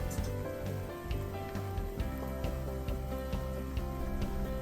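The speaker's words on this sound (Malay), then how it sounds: "Dan gorenglah rempeyek sama seperti tadi." Steady sizzling and crackling of peanut and anchovy crackers frying in hot oil, continuous and fairly close, with no talking.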